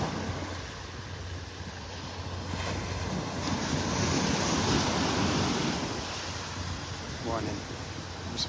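A breeze blows steadily on Vanderbilt Beach in North Naples, Florida, a broad continuous rush of wind and surf by the ocean that swells slightly in the middle, with faint voices under it.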